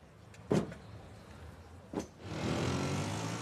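A Piaggio Ape three-wheeler pulls away: two brief clunks like a door closing, then its small engine revs up and holds a steady drone, faint and a little distant.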